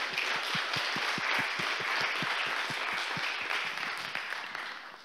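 Applause for the hosting team at the EthCC Ethereum conference, a dense wash of clapping with a few sharper nearby claps standing out, steady and loud before easing slightly toward the end.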